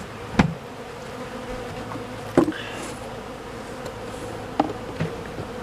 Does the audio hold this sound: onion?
no